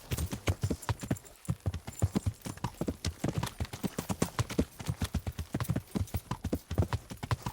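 Horse hooves clip-clop in a steady, brisk rhythm through the medieval game Kingdom Come, loud and close, with the occasional snort mixed in and no talk over them.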